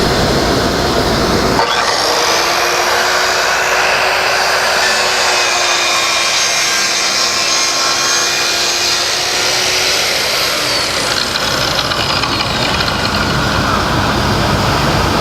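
A SawTrax panel saw cuts through a board: a loud, steady high whine and roar of the blade that runs unbroken for about ten seconds, then winds down.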